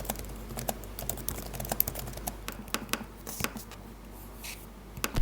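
Fingers typing on an Apple Magic Keyboard for iPad Pro, a close, steady patter of light clicky keystrokes with irregular rhythm and occasional quick bursts, no speech.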